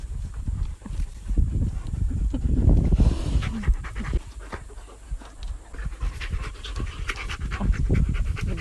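A dog panting close by, rapid rhythmic breaths with some shuffling and movement, steady across the whole stretch with no talking.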